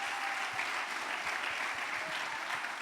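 Congregation applauding at a church congress gathering, steady dense clapping sustained throughout at moderate loudness with no talk over it.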